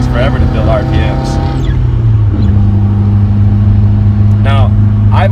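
Stock 1991 Nissan 240sx engine droning steadily while its RPMs climb slowly, with a pitch shift partway through and someone talking over it.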